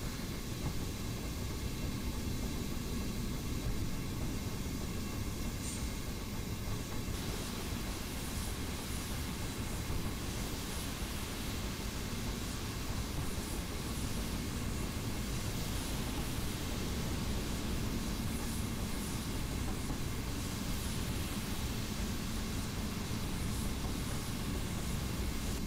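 The steam locomotive Oliver Cromwell runs into Loughborough station in the Train Simulator 2018 game, a steady, even rumble with rail noise and hiss that continues unbroken throughout, with no voices.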